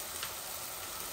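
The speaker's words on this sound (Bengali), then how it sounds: "এখন আমি চিকেন গুলা দিয়ে দেই" Chicken wings, two kilograms, going into hot masala in a large pot give off a steady, close sizzle with a faint hiss and no talking.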